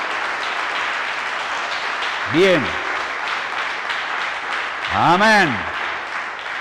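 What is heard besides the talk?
congregation applause in church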